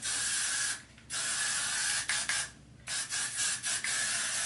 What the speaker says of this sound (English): now I'm just gonna take some more of that Got2b glue hairspray and spray it